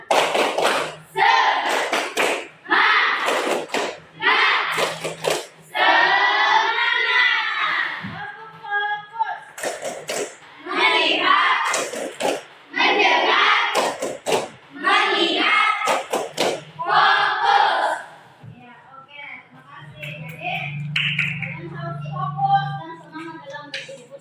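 Classroom group performing an Indonesian tepuk semangat, rhythmic bursts of clapping interleaved with children's chanting voices, repeated patterned claps across the whole stretch, close and loud.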